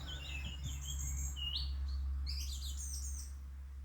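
Several small birds chirp and twitter outdoors, bright high calls overlapping at a moderate distance over a low steady hum of background noise.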